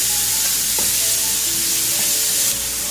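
Minced broccoli sizzles steadily in a hot pan while a utensil stirs it, with a few faint scraping clicks over the constant frying hiss, which drops off slightly near the end.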